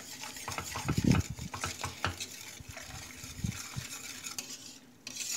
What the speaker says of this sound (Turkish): Tamamen pürüzsüz bir kıvam alana kadar karıştırıyorum.